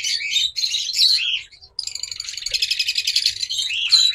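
Opaline lovebirds chirp close by, with rapid, busy bursts of high-pitched tweets and short calls and a brief pause partway through.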